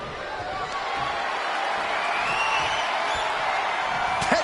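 Arena crowd noise from a WWE 2K25 wrestling match, a steady roar of cheering and whooping that swells slightly, heard under a commentator's voice.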